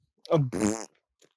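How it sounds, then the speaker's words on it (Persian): A single loud, wet fart with a sputtering, rippling tone rises sharply and lasts about half a second before a brief pause and a faint tail, with no talk over it. "گوزک."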